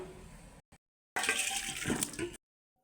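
Pumpkin and Malabar spinach curry with prawns is poured out into a serving dish, making a short, wet, sloshing rush after a brief scrape and pause, then silence.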